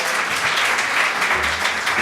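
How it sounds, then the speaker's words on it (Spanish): Audience applause at an adult education conference session, a dense, even burst of clapping from a seated crowd that carries on steadily for the whole stretch. "Un aplauso para ellas."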